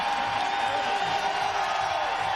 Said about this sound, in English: A fired up Florida crowd